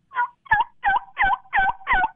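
Wild turkey hen call imitated by a person, six evenly spaced yelping notes in a steady rhythm, close and clear with no talk.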